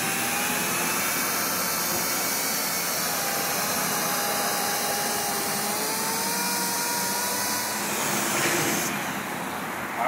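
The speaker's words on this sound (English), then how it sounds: "We're going to keep the same DA tool on, and we're going to move on to the black polishing pad." A dual action polisher buffs compound on a 2002 Honda Civic headlight, a steady close motor whir with a wavering pitch that holds unbroken, rising slightly before stopping.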